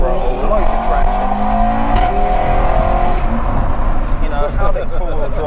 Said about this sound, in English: And then coming out of here full throttle, loads of traction.